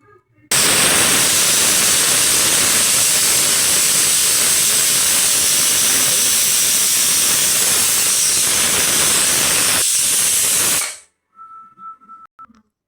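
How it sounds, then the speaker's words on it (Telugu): A pressure cooker cooking veg biryani lets out a loud, close, continuous steam hiss that holds steady for about ten seconds before cutting off abruptly. "అది విసిల్ వచ్చేస్తే బంద్ చేస్తామండి 3 విసిల్లో"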